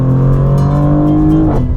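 A Maserati GranTurismo Trofeo petrol engine revs hard in second gear, a loud, close, steady harmonic drone that climbs in pitch throughout before easing slightly at the end.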